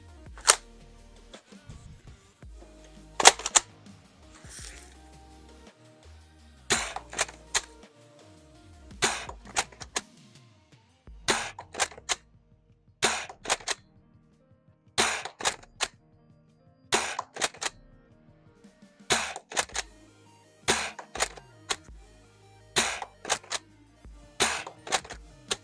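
Gameface Trion foam dart blaster firing at a target, a series of sharp, close snapping shots in spaced bursts, each followed by softer mechanical clicks and rattles of priming in the quiet between.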